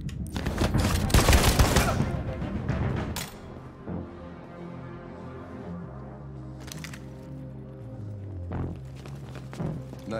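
Rapid gunfire in the video game Detroit: Become Human opens with a dense, loud fusillade of shots over the first few seconds. Quieter game ambience and a few sharp impacts follow.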